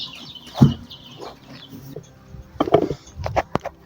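Week-old local fowl in a backyard, giving short scattered clucks and chirps at close range, with a few sharper calls near the end.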